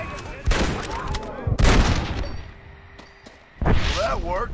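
Gunshots in Red Dead Redemption: Undead Nightmare, heard as a few loud, sharp bursts spaced apart, with voices talking between them.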